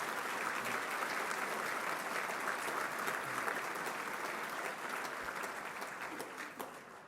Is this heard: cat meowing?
no